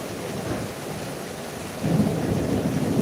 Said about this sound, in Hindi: बहुत ज़्यादा तेज़ बारिश हो रहा है ना, और हवा भी बहुत तेज़ है।